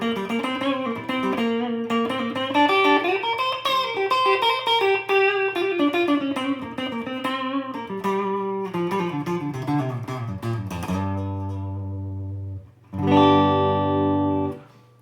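An electric guitar with a Seymour Duncan Pearly Gates humbucker on the neck pickup plays a clean solo through an amp with a little spring reverb, fluid melodic runs and bends, ending on sustained chords, loud and close with no talking.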